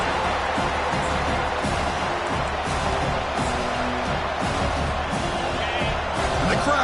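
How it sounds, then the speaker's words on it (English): Football stadium crowd roaring during a college game against Tennessee as the home defense tries for a goal-line stand, a dense sustained wall of noise with faint shouts and thuds in it. "Crowd really making some noise now, trying to help out this defense to get this stop near the goal line"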